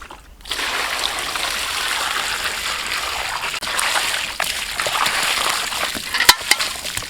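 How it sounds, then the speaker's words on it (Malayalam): Tap water runs in a steady trickling stream while chicken is washed for honey alfaham, with occasional splashes and clinks, sounding close and continuous with no talking. "നമുക്ക് നല്ല രീതിയിൽ ചിക്കൻ കഴുകാം കേട്ടോ."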